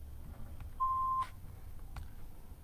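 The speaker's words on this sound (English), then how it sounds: "Please leave your name and phone number after the beep." A single steady electronic beep from an answering machine, short and clear, over a low background hum, with faint clicks around it.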